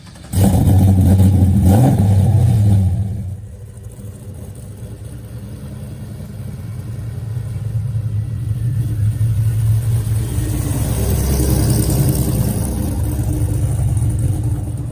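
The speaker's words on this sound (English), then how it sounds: "750 horsepower LSA supercharged engine inside of their everyday work truck" A Chevy square body work truck with a 750 hp supercharged LSA engine revs hard for a few seconds, drops back, then settles into a loud, steady rumble that builds slightly, close by with no talk.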